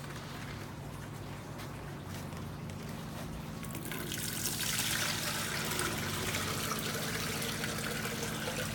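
Water draining out of a soaked hydroponic seeding tray, a continuous close trickling and splashing that swells louder and brighter about halfway through and keeps pouring steadily to the end.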